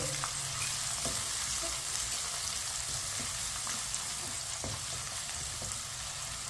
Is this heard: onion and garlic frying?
yes